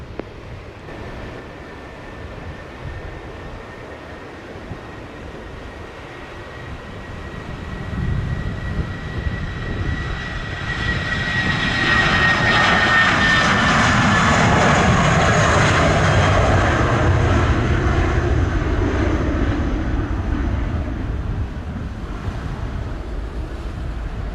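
A fixed-wing airliner takes off from runway 07 at Montego Bay's Sangster International Airport, its jet engine roar building from about eight seconds into a loud, sustained rumble with a faint whine, mixed with wind and distant surf.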